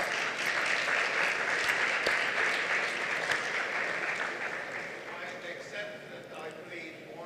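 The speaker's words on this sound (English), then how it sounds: "let's give him a clap" Audience applause for Charles at a Doctors For a Cause 2024 charity event, a dense, steady clapping from many hands that holds loud for several seconds, then thins and fades toward the end.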